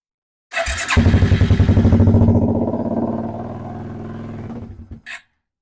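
A 1992 Suzuki QuadRunner 300 ATV engine, gravity-fed and on choke, cranks and fires up at once, then runs with a loud, close, rapidly pulsing idle for several seconds before cutting off abruptly, followed by a brief final clatter.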